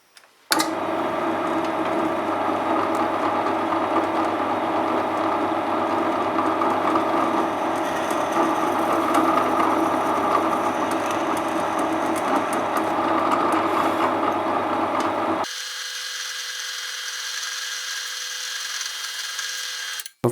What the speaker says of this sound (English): drill a couple of little holes through the centre of these O's